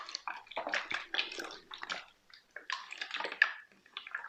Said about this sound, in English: I've just put some water in a bottle, and you can have fun sloshing that around.